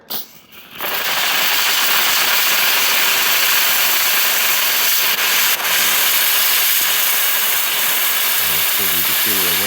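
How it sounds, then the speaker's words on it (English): A 300-degree steam jet cleaner hisses loudly and steadily on a car emblem, a broad, constant rushing blast that starts after a short pause, with a voice talking faintly near the end. "So I've got my steam jet here. This is coming out at 300 degrees."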